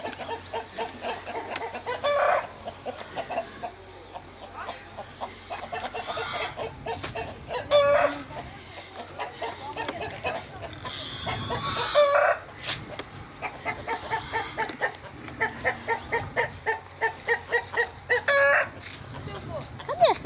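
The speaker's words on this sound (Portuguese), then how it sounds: "Essa galinha que tá cantando aqui." A hen clucks in repeated bursts, with a rooster crowing a few times in between, close by over a low farmyard background and some talk.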